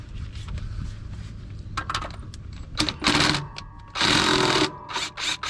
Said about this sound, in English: I'll start plopping some of these bolts out.